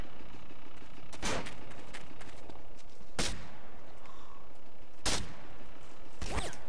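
Four loud, sharp shotgun blasts ring out one by one at irregular gaps in a Grand Theft Auto San Andreas farm shootout, each a booming crack over constant game ambience.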